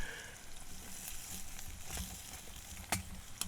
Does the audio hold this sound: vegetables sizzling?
yes